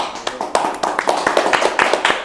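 Hands clap in a quick irregular patter during an informal Indonesian DJ talk-show chat, the sharp claps close and fairly loud, with people talking over them.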